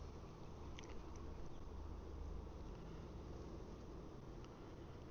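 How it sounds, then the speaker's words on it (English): Honey bees buzzing inside a hive, a steady, dense, close drone that holds evenly throughout, with no voices. "There's a lot of bees in here."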